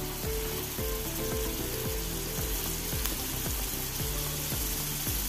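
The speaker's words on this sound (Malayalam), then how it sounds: "നമുക്ക് ചെമ്മീൻ ഫ്രൈ ചെയ്തെടുക്കണം." Prawns frying in a pan give a continuous close sizzle, with regular scraping strokes of a spatula repeating about twice a second, no voices.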